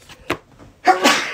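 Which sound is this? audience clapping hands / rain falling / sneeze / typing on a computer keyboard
sneeze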